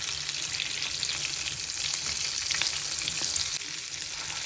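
Fish fries in a pan with its second side down, a dense, continuous crackling sizzle that stays steady and close for the whole stretch.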